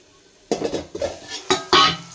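Onions cooking down in a pan are stirred with a utensil, giving a few close scraping clinks and clatters over a faint sizzle.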